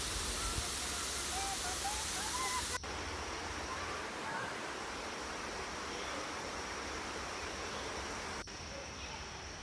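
Curtis Falls, a waterfall in an Australian rainforest on the Gold Coast during the rainy summer season, gives a steady, broad rushing roar throughout, with faint bird calls in the opening seconds.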